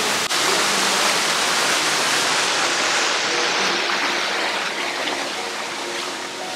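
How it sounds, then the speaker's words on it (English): Indoor waterfalls and fountains inside the Opryland Hotel in Nashville pour with a loud, dense, unbroken rush of falling water that fills the space, steady from start to finish with no voices. "There's waterfalls, there's water fountains all throughout this property."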